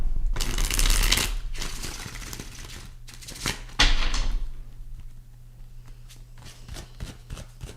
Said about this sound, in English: Give me 2 shuffles and we gonna start